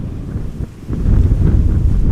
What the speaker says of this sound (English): 24 knots of wind